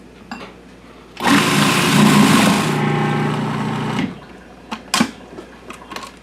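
An electric mixer beats cream cheese and sugar with a loud, steady whine for about three seconds before cutting off, followed by a few clatters and scrapes.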